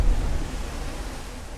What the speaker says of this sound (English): What are these waves anyway? Look at this one. Is the ocean moving? Is the water moving?